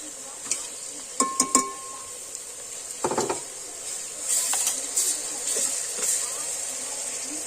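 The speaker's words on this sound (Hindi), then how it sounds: "अब हम इसमें ऐड करेंगे जिंजर गार्लिक पेस्ट 2 चम्मच," Ginger garlic paste frying with onions in a pan for a Kashmiri-style chicken dish: a few sharp clinks and scrapes early, then a steady, fairly loud hissing sizzle that swells in waves through the second half.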